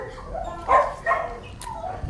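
A Rottweiler gives a few short barks and yips close by, two louder bursts separated by brief pauses, with softer whimpering sounds in between.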